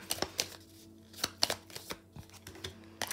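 Tarot cards being shuffled by hand in short bursts of riffling and sharp slaps, irregularly spaced and close, with no talk.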